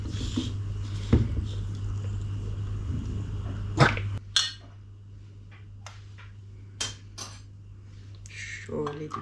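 A utensil stirs briefly in a bowl, giving a few sharp clinks and taps that come as scattered separate hits in a quiet home kitchen.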